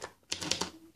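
Keys clatter on a Tenkey Neotype keyboard, a short run of three or four close, crisp strikes in quick succession, fairly loud with no voices over them.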